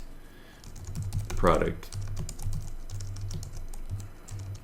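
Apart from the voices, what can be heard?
typing on a computer keyboard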